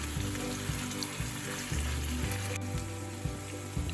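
Chicken pieces sizzle loudly in ghee in a pan, a steady frying hiss with a few soft knocks as the pieces are turned, alone without talk.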